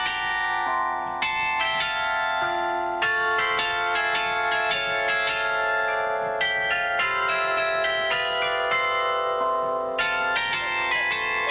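A complete set of newly cast, harmoniously tuned bells played by Gerard de Wart, ringing in a steady melodic sequence of struck tones with long overlapping decays, loud and close with no talking.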